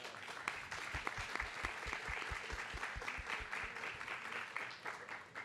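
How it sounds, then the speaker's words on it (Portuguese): Audience applause at a book fair session on Afro-Atlantic literature, a dense, steady roar of many hands clapping that fills the room evenly, with a few sharper claps standing out near the start. "Eu peço palmas para o Mário Lúcio"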